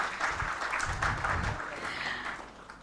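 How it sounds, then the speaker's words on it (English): An audience at a corporate stage event for Flipkart applauds, a steady, moderately loud wash of many hands clapping together that carries on for a few seconds without letting up. "Can we have a bigger round of applause for Flipkart?"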